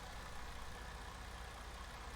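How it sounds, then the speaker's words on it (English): Pre-production Detroit diesel truck engine mod in American Truck Simulator, idling with a steady, dense low rumble and faint knocking throb, unchanging throughout. "But seriously though, it's a Detroit diesel engine."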